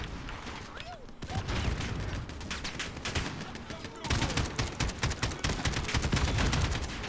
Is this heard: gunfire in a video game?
yes